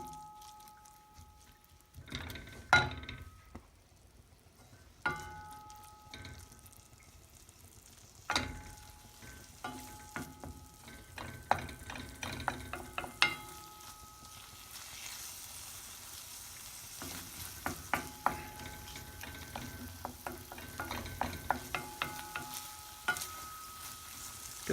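Onions and cherry peppers fry in olive oil in a cast iron pan with a quiet, steady sizzle. Scattered clicks and scrapes come from occasional stirring, and no one speaks.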